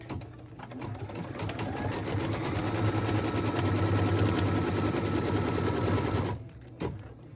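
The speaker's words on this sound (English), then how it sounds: "What we're stitching now is the tack down line for piece number 8." A sewing machine stitches a tack-down line on quilt pieces, running in one steady, loud, rapid whir for about six seconds before stopping, followed by a brief small knock.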